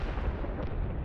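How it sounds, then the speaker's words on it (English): A British artillery barrage of 1917 firing shells, heard as a dense, continuous low rumble of booming guns with no distinct gaps and no voices. "the British artillery unleashes a barrage of 4 million shells, 4 times more than in the Battle of the Somme."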